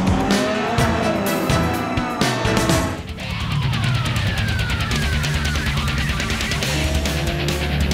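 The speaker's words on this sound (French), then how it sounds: "Après un tour de chauffe, un warm-up sous la houlette d'une superbe 911 GT3 type 996, elle démarre vers 15h et c'est Cantarel qui est le principal anima" Clio RS Cup race cars launching from a standing start at the Ascari circuit, loud engines roaring together with tire squeal and skidding, a brief dip before the pack accelerates away.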